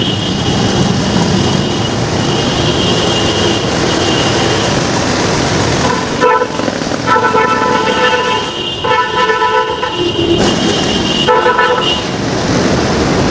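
Heavy road traffic on Quirino Avenue beside roadwork construction, with car horns tooting repeatedly over a steady, loud engine roar from nearby vehicles throughout, and several sharper honks in the second half.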